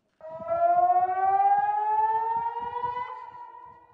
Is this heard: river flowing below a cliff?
no